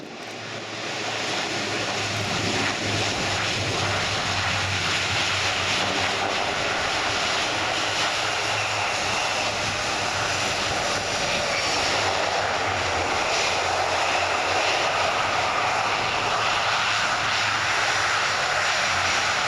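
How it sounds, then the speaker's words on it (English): An Airbus A400M Atlas military transport comes in to land at an air show display, its propeller engines giving a steady, loud, droning roar that holds throughout, heard from a distance with no talk. "For Ed Strongman then, into land, the Airbus Defence and Space A400M, the Atlas."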